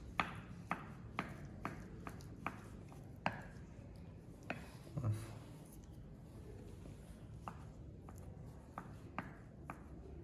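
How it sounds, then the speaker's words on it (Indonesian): Food is chopped finely with a knife on a board to make baby food, giving quiet, irregular taps, single and in short runs, spread across the clip with no talking. "ini saya cincang sedikit agar lebih halus"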